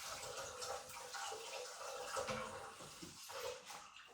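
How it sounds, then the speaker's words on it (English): Running water pours over a blender jar as it is rinsed in a kitchen, a soft steady splashing flow at low level. "Just rinse it off so it's easier to clean."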